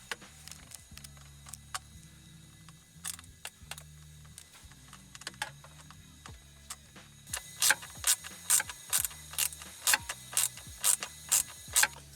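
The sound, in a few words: tightening sensor bolts with a T15 Torx driver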